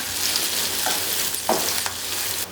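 Onions and chillies sizzle and crackle steadily in a hot pan, with a few scraping stirs, close and fairly loud, no voices.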